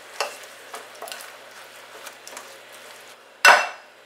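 Garden vegetable leaves stirred into a quiche mixture in a bowl, with soft scraping strokes and light clinks repeating through the clip and one louder sharp clatter near the end.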